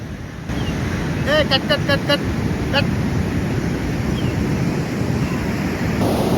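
Ocean waves at Ozran Beach in Goa make a continuous broadband wash, with buffeting wind noise on the microphone and a few brief tonal chirps early on.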